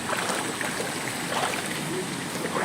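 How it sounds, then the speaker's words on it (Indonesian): A river rushes and splashes continuously as people wade across it barefoot, a close, broadband wash of water with no clear pauses. "Harus menembus sungai ini teman-teman ya."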